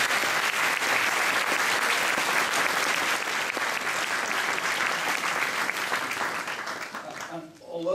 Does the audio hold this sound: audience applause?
yes